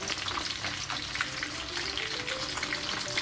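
Nile tilapia deep-frying in hot oil, a steady close sizzle with dense crackling bubbles running evenly throughout, no talking.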